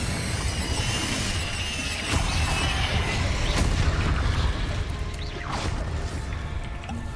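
A Confringo blasting spell erupts in Hogwarts Legacy amid a dense game mix: several sharp crashing booms punch through a constant rumbling bed, with thuds at intervals over the seven seconds.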